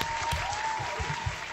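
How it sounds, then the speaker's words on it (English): An audience applauds to welcome a gospel singer onto a live show, with dense, steady clapping and light crowd noise throughout a short burst. "Let's give her a round of applause."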